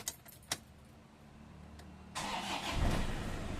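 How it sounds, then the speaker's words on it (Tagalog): A couple of sharp clicks, then a Toyota Hilux pickup engine cranks and catches, settling into a loud, steady idle close by without misfiring. "I-switch off ko itong makina tapos i-start ko ulit yan."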